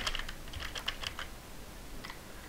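Keys on a computer keyboard clatter in a quick burst of close, crisp taps over the first second and a half, then a brief pair of clicks follow after a pause, with no one talking.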